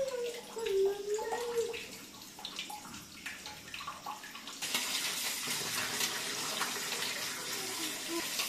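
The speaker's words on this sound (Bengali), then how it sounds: "এই যে চিকেনটা আমি ভালো করে পরিষ্কার করে ধুয়ে নিচ্ছি" Raw chicken being rinsed under a running kitchen tap, a steady close splash of water that grows louder and fuller halfway through, with faint background clatter and no talking.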